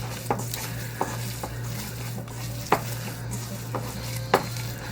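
Ground pork and beef are mixed with gochujang, sugar and shoyu, a soft wet squishing with scattered light taps and clinks against a bowl, alone with no talk.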